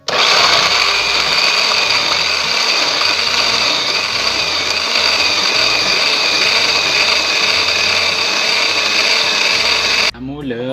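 A kitchen blender purees spices and ingredients with water for a tender beef tendon (kikil) dish, its loud steady motor whirring continuously for about ten seconds before stopping abruptly.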